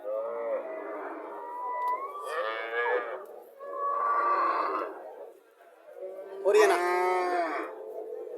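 A Haryana cross dairy cow lows repeatedly nearby, several drawn-out moos in a row, the last one loudest, with faint background chatter at a cattle market.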